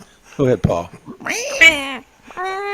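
A voice imitates a cat, drawing out a rising and falling meow with a shorter mew after it, following a brief spoken prompt from another person.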